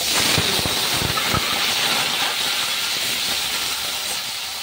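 Pumpkin pieces fry in hot oil for a Bengali hilsa fish curry, giving a loud, steady sizzling hiss with a few soft clicks early on and no talking.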